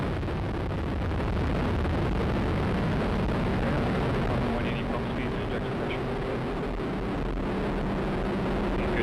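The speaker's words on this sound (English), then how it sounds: "We have ignition. 2, 1, and liftoff of the United Launch Alliance Atlas V rocket with AFSPC 11" A United Launch Alliance Atlas V rocket with five solid boosters lifts off, a continuous broadband roar that is loud, dense and rumbling, holding steady from start to finish and heard from a distance.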